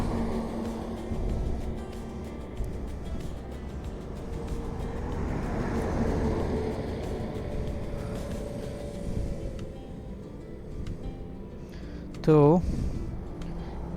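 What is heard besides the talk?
highway traffic noise passing vehicles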